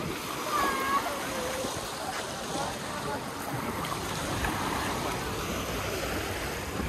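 Wind-stirred sea waves wash against the shore at Novy Svet in Crimea, a steady broad rush of surf and breeze with no break.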